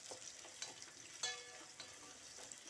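Onions frying in a pan for a gongura paneer curry, a soft steady sizzle with faint crackles and a few light scraping stirs, fairly quiet and alone.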